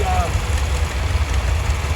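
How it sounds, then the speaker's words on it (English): A 1968 65-horsepower four-cylinder air-cooled diesel tractor rolls in a farm days parade, its engine giving a steady, loud low rumble, with a voice faintly audible over it. "65 horsepower 4-cylinder air-cooled diesel"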